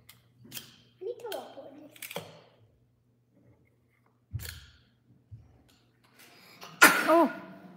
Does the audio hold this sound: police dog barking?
no